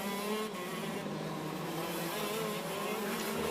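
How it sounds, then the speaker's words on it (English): KZ2 racing karts on rolling laps before a standing start at a British Kart Championship round at Rowrah, their engines making a steady, continuous buzzing drone at moderate distance without breaks. "drivers going around again for another 2 rolling laps in KZ2"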